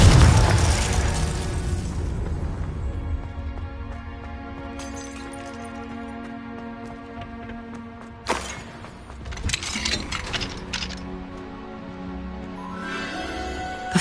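A Confringo spell in Hogwarts Legacy bursts with an opening boom and crackle of shattering debris, then fades into ringing magical tones, followed by a second sharp crack and scattered glassy clinks.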